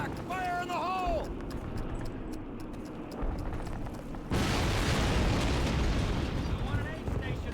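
A detonating explosive charge in Call of Duty (2003), set in wartime Normandy, lands as a sudden loud broadband blast about two-thirds of the way in. It swells into a sustained roar over the ambient battle noise after earlier shouted voices.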